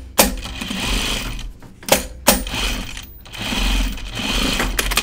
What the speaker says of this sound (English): I just top stitched that down